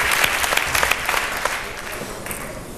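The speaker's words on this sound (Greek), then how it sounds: "Τώρα χειροκροτάει." Applause from a studio audience at a Survivor reality TV semi-final, dense steady clapping that stays loud throughout and fades slightly at the end.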